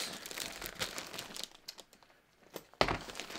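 A mailed package is opened by hand, its paper crinkling and tearing in a series of close, scratchy rustles, with a brief quiet stretch before a sharp final crackle.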